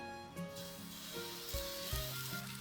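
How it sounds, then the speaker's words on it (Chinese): Locust flower pancake batter made with egg, salt, chives and thirteen-spice powder fries in oil in a pan, giving a soft, steady sizzle. Faint tonal background sounds run underneath. "锅里放点油，煎洋槐花饼，"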